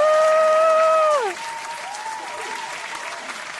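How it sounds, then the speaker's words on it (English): Studio audience clapping in a steady, even wash after a voice briefly sings or sustains a tone at the start, the applause continuing moderately loud to the end. "it's safe to clap now, audience"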